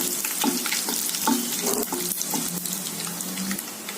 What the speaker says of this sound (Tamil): இப்போ கடுகு பொரிஞ்சிருச்சுங்க வரமிளகா போடுறேங்க